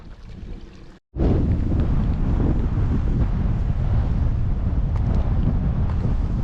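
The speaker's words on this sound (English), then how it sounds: "the weather's okay, a bit breezy now" Strong, steady wind buffets the microphone on a wet, exposed hiking trail in the Scottish Highlands, a loud continuous roar after a brief dropout near the start.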